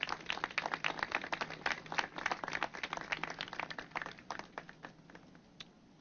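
Audience applause fills a community gathering at a city event: dense, steady clapping from many hands that thins out and fades over the last second or so.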